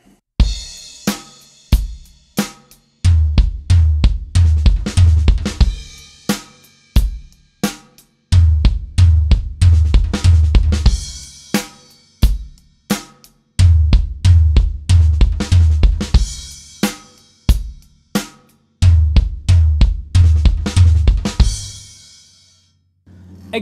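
A drum kit plays a sextuplet fill exercise, half a measure of steady eighth notes followed by a rapid fill, repeated in several loud, close cycles with kick and cymbal accents, no talk.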